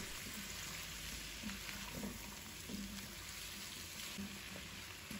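Chestnuts stir-fried with salt, soy sauce, pepper and oyster sauce give off a faint, steady sizzle, with soft scraping bumps of stirring in the pan.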